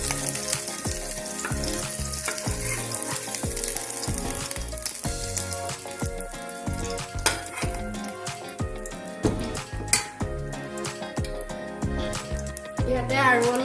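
Paneer frying in hot oil in a pan, a steady crackling sizzle with occasional stirring clinks, with soft background voices now and then.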